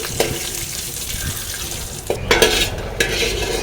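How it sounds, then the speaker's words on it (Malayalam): Cashew nuts fry in ghee in a pan, giving a soft sizzle under repeated scraping stirs and a few sharper knocks of the utensil, close and fairly loud. "നമ്മൾ നെയ്യിൽ അണ്ടിപ്പരിപ്പ് വറുക്ക്"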